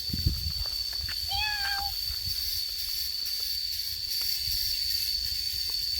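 A single short cat meow rises clearly over a steady high insect-like drone, with faint rustling and no talking.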